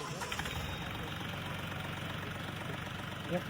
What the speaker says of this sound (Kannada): ಬಟನ್ ನಾವು ಪ್ರೆಸ್ ಮಾಡಿದ್ರೆ tractor engine push start stop button ಇಂದ